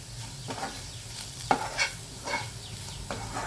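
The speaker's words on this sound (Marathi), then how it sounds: "तेलातच परतून घ्यायचं" Garam masala and red chilli powder sauté in oil in a pan, with a low sizzle broken by several scraping stirs of a spoon at close range and no speech.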